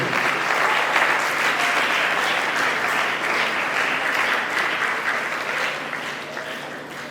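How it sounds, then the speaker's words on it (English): Sustained audience applause at a community climate change adaptation event, a dense, steady wash of many hands clapping at close range that eases slightly toward the end. "So please can we clap for this set of people?"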